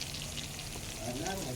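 Chicken pieces frying in a home kitchen during Onam festivities, giving a steady, even sizzle throughout with faint background noise and no clear voices.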